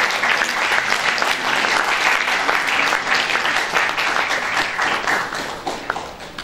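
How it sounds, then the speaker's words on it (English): Loud, thunderous audience applause at a literary festival welcoming a guest, a thick continuous roar of many clapping hands close by, steady throughout and alone with no talk. "Can we please have a thunderous round of applause for"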